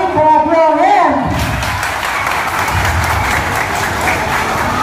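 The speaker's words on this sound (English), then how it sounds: "Everybody clap your hands." A crowd claps hands at the Cedar Point amusement park, a steady broadband patter that carries on for several seconds after a voice speaks over an announcement tone at the start.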